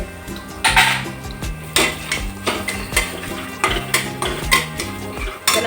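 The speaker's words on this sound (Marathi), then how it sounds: "आता मसाला चांगला परतवला गेला तेलामध्ये" Vada pav masala of chilli, garlic, turmeric and red chilli powder sautéed in oil, with a spoon stirring and scraping the pan in steady, repeated strokes over a soft sizzle, close and fairly loud with no talking.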